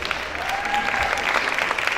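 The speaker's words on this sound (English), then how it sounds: "Can we have a big round of applause for them," A crowd applauds steadily for Miss India Worldwide 2017 pageant contestants in New Jersey, the clapping dense and continuous, with a faint tone and murmur underneath.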